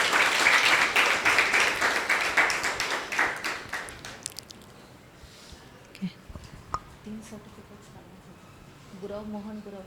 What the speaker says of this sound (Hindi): ताली बजाएंगे सभी।